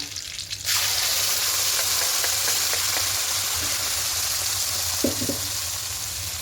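Spice paste for chicken curry frying in hot oil, a sudden loud sizzle bursting in after a brief quieter moment and holding steady, with faint scraping stirs and a couple of light clicks near the end.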